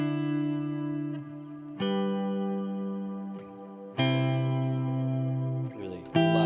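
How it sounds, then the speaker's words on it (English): Sustained synthesizer chords bathed in a lush, smooth Lexicon small-room reverb, shifting every couple of seconds, with a short roomy tail after each change. "Really lush, beautiful reverb. Small room sound."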